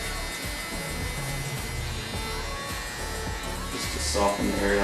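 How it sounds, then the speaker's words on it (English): An electric hair clipper buzzes steadily during a haircut, scooped and feathered through the hair, humming under continuous instructional talk from a nearby voice and growing a little louder toward the end. "Always scooping or flicking or feathering the clipper"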